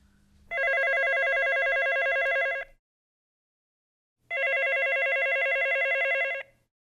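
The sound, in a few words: telephone ringing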